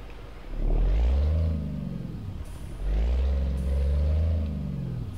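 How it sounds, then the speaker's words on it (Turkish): Renault Magnum truck engine in Euro Truck Simulator 2, a deep loud rumble that swells with acceleration twice, easing between the pushes, heard alone and up close. "Dediğim gibi motor sesi de kendine has bir motor sesi."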